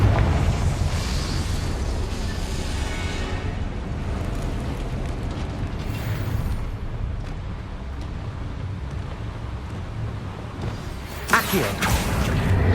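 Hogwarts Legacy's Confringo fire spell erupts in a booming, roaring blast that rumbles on for several seconds, followed by a sharp crackling burst near the end.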